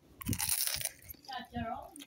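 A loud, crisp crunch of biting into chicharon pork rinds at a lomi eatery in Rosario, Batangas, followed by a person speaking briefly.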